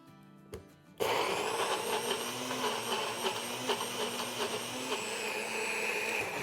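A blender whirs to life after a brief quieter start, grinding green chutney with lemon juice in a loud, steady motor drone with slight rhythmic pulsing as the contents churn.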